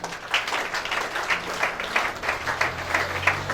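Applause ripples through a crowd of mourners at a funeral ceremony, a steady wash of many hands clapping at a moderate distance, with faint low murmurs and a held tone underneath.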